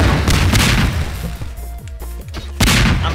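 Bombs detonating in the Garry's Mod game Melon Bomber give heavy, punchy booms, a loud burst at the start, a few sharper pops in the middle and another big blast near the end, with no talking.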